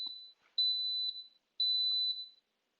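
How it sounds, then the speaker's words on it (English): Instant Pot electric pressure cooker sounding three clear high-pitched beeps after its time is set, each a sustained electronic tone of about a second or less with short gaps, alone in a quiet kitchen. "It's going to beep here in a second"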